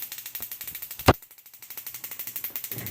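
A high-voltage electric arc fires from an induction coil setup running at 20 volts, producing a rapid, steady buzzing crackle with one sharp, loud snap partway through.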